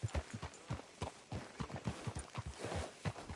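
A horse walks with steady clip-clop hoofbeats in the Red Dead Redemption 2 western video game, a quiet, close, even rhythm of hoof strikes that goes on without a break.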